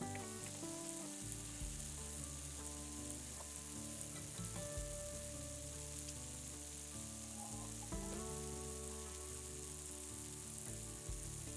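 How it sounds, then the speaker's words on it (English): Bologna pasta ingredients sizzle in a wok, a steady loud frying hiss with faint stirring clinks and background music throughout. "We're going to dump everything into the wok."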